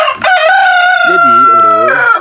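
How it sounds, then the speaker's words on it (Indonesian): A Merawang village chicken, a free-range kampung fowl, lets out a loud, close crow with a brief cluck at the start, one drawn-out call carrying alone. "ayam ini kan ayam kampung"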